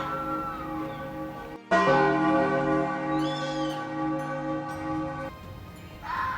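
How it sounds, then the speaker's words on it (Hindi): A village temple bell is swung by pulling a rope. It rings out in loud, sustained metallic tones with long ringing overtones, gets a fresh strike partway through and then fades slowly. "देखा कल्लू रस्सी के सहारे घंटी हिला रहा था"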